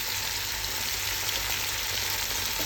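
Fried rice sizzling loudly in a pan as oyster sauce is added, a dense continuous hiss and crackle close by throughout, with no speech.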